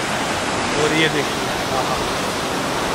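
Water pouring over a waterfall near Pune, a loud, constant broadband roar of rushing flow heard close by, with someone talking over it.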